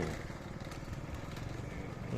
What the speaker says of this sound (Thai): ป๊าสตาร์ทวอร์มเครื่องยนต์ลูก ป๊าวอร์มเครื่องยนต์ก่อน